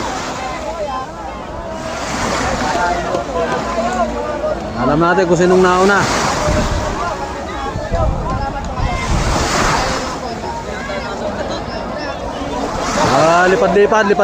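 Ocean waves surge and crash in a constant roar during a boat race, with wind buffeting the microphone and a boat engine droning, while people talk and shout over it.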